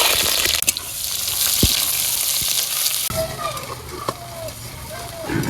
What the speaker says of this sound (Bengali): তেল গরম হয়ে গেছে এবার দারচিনি আর এলাচ দিয়ে দিলাম এবার দিয়ে দিলাম পেঁয়াজ কুচি